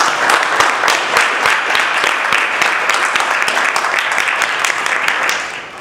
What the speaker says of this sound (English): one more round of applause for a good call